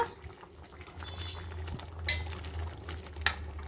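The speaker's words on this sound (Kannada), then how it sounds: "ಸೇರಿಸ್ಕೊಂಡು ನೀಟಾಗಿ ಒಂದ್ಸಲ ಮಿಕ್ಸ್ ಮಾಡಿ ಬಿಡೋಣ." Spice powder being stirred into a brinjal side dish in a pan on the stove, with soft continuous scraping and wet stirring sounds and a couple of sharper utensil clinks against the pan, no talking.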